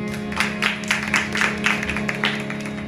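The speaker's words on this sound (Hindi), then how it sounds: "आमीन, जोरदार तालियां बजाएंगे।" A church congregation claps loudly during a sermon, a steady run of rhythmic applause bursts over a sustained tonal drone that holds beneath it throughout.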